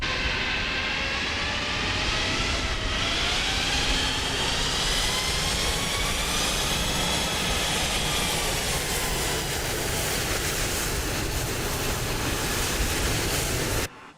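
Airliner jet engines roaring during a go-around in a flight simulator game, a loud, steady, broadband roar with a slowly shifting whine that holds for the whole stretch, then cuts off abruptly at the end, no voices.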